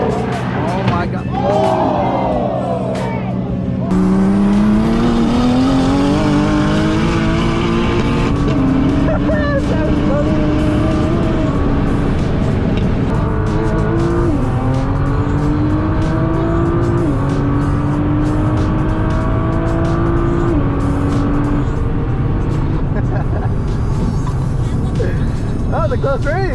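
Racing car engines roar continuously, their pitch climbing through gear changes as the cars accelerate side by side, loud and close, with excited voices talking over them.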